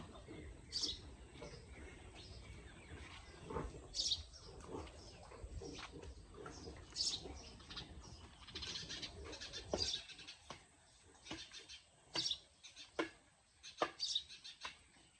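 Birds calling in a village setting, with repeated sharp chirps and cooing-like calls over a low rumbling background, fairly faint and intermittent.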